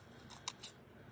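A single quiet snip of scissors cutting paper for a craft kit, brief and close in an otherwise quiet room.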